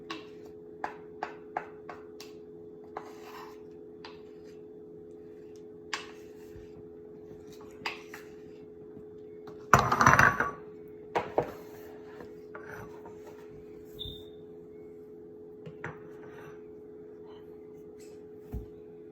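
A spatula working peanut butter cookie dough with egg in a bowl, soft scraping and rubbing strokes with scattered clicks, one louder scrape burst midway, all fairly quiet against a low steady background hum.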